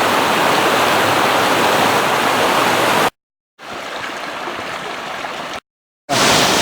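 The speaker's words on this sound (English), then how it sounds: "And this is the falls." A waterfall on Ice Creek along the Ice Lake Trail in Colorado roars loud and close as a constant dense rush of water, broken by two brief silent gaps.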